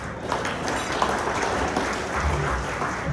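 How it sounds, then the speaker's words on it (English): Steady applause from a crowd at a morning speaker event, many hands clapping at once in a dense, continuous wash with no break. "Give a round of applause."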